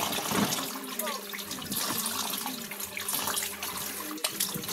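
Cut meat is rinsed under a running kitchen tap, giving a steady close hiss and splash of water with small changes as the pieces are moved in the stream.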